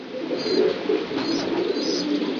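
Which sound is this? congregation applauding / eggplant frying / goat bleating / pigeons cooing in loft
pigeons cooing in loft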